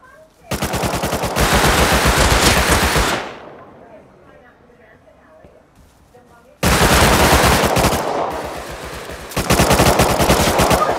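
Automatic gunfire rattles in a shooter video game, with two long, loud, close bursts of rapid fire separated by a quieter stretch of a few seconds.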